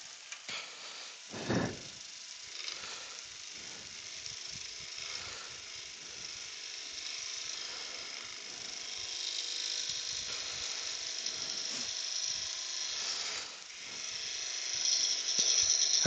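Gouge chattering against spinning resin on a wood lathe, a steady buzzing mechanical rattle running throughout at moderate level, with a louder knock early on.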